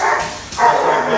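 Dogs in a licensed commercial kennel give two quick, loud barks close by, one after the other, with no talking.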